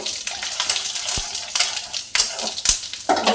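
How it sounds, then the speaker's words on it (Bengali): Panch phoron and dried red chillies are stirred in hot oil in a pan, a steady close sizzle with scraping stirs and occasional sharp crackles. "আর একটু 5 ফোড়ন দিয়ে একটু নেড়ে নেব"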